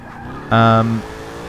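An Alfa Romeo 8C drifting in Forza 6 gives one loud, half-second tonal engine wail with tire squeal, rising over a low background of game sound and talk.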